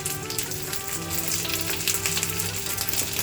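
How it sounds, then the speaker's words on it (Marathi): Sliced onion pieces fry in a pan for a paneer vegetable gravy, making a dense, continuous crackling sizzle that stays close and even throughout, with no talking. "आपण हे काप आहे कांद्याचे ते आपण फ्राय करत आहोत"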